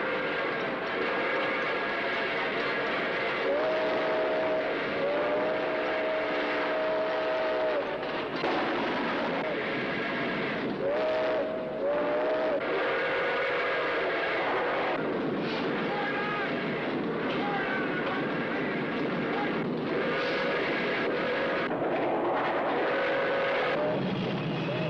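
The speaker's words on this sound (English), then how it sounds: "two trains barrel toward one another at high speed in a dense fog" Two trains speed toward each other in dense fog, roaring along with a rumbling, rushing clatter while sustained whistle blasts sound again and again, growing tense and loud.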